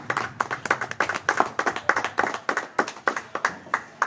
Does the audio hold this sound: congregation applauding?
yes